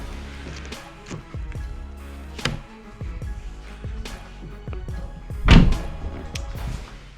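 Subaru STi car door handled up close: a few scattered thunks and clicks, with one loud solid thud near the end, no talking.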